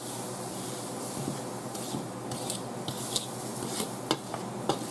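Croissant dough ingredients are mixed in a bowl, giving a soft, continuous scraping and rubbing with occasional light clicks of the utensil against the bowl, heard up close.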